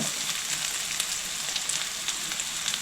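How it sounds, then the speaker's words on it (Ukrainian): Onion frying in a pan toward golden brown gives a steady, close sizzle with dense crackling and small pops, without any talk. "Тут потрібно цибульку підсмажити до золотавого кольору."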